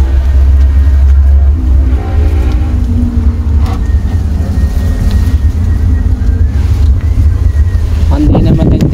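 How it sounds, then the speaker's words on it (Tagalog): Heavy wind buffets the microphone in a constant low roar, with a brief louder gust near the end. "Kanina ulan, hangin naman ngayon. Grabe. Pupo yung hangin."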